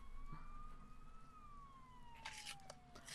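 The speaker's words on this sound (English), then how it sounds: "You hear sirens nearby." Sirens wail nearby in the Persona video game, a steady tone sliding slowly downward and running continuously for a few seconds, faint and alone with no talk.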